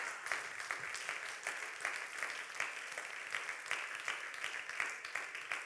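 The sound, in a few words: applause for Jesus in church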